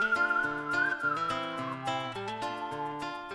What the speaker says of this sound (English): it begins with that incredibly catchy whistling tune